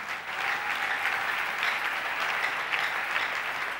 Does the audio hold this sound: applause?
yes